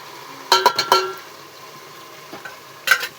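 Tomatoes are stirred in a cooking pan, giving a few quiet clinks and scrapes in a short burst, then a faint sizzle with another couple of light clinks near the end.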